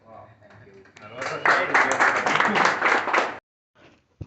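Applause from a celebration crowd after speeches, starting faint then swelling into a dense, sustained burst of clapping for about two seconds before cutting off abruptly, with some talk before it.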